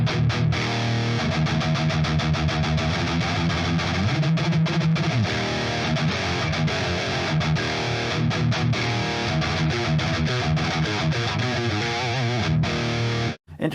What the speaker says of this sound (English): let's see how it does dirty riff rhythm tones